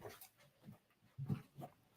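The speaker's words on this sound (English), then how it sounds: "He only barks because Remy gets him going." A rescue dog making soft, low barks or woofs indoors, several quiet, irregular bursts heard from a distance against a faint background.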